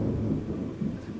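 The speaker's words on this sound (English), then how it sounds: "Sorry if you guys can hear the thunder," Thunder rumbles low and continuous during a heavy outdoor downpour, steady rain noise filling the background throughout, with no talk.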